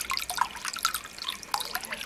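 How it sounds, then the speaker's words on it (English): Holy water mixed with spring water being poured into a bowl for oil divination; close, bright splashing drips and trickles over about two seconds, with no talk. "So you pour it into the bowl"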